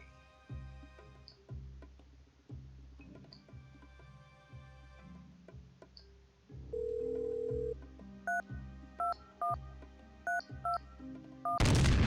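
A phone in the puzzle game A Puzzle in Disguise is used: a steady ticking rhythm runs under a sequence of dialing tones, then a repeating ring pattern sounds before a loud burst at the end, with no speech.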